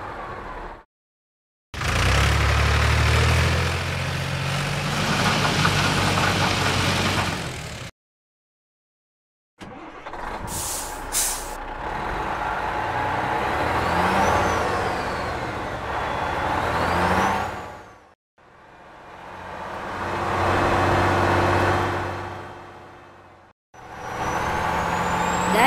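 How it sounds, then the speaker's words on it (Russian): A cartoon dump truck hauling away dug-up earth rumbles along with engine drone and hissing air brakes, in several loud bursts separated by short silent gaps. "Землю, что тут накопали, увезем на самосвале."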